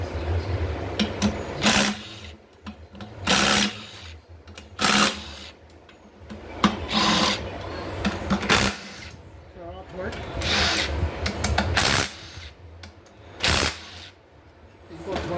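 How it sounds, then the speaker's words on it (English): Power tool removing pump bolts from a Ford 6F35 transmission of a 2014 Ford Fusion or Escape, several short loud whirring bursts separated by pauses and quieter handling noises. "Basically, I remove these bolts to remove the pump."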